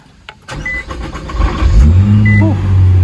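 A few clicks and a short crank, then a used BMW's engine catches and settles into a steady low idle nearby; the car has faults.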